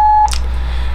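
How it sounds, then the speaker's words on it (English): A voicemail beep on a phone call, one short steady electronic tone that cuts off abruptly, followed by a soft click and line hiss. "It's gonna beep."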